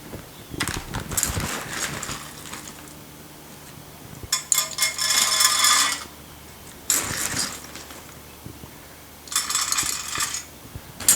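Wood pellets scooped into a pellet pizza oven during lighter-fluid lighting, heard as several short bursts of rattling, clattering pellets pouring in, each a couple of seconds long, with quieter gaps between.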